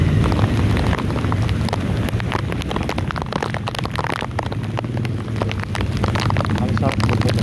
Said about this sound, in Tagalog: Yun o, lakas na ng ulan no.